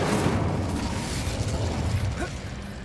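An Incendio fire spell cast in the Hogwarts Legacy video game on PC, producing a loud, dense burst of rushing roar and whooshing flame that holds steady, with a short rising tonal sweep near the end.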